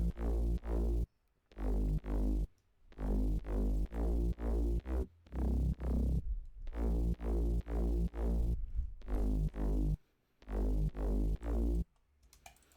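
A sub bass and a white-noise bass layer play together in an FL Studio track. Loud, pulsing low-end hits repeat in a steady rhythm, with short breaks of silence between phrases.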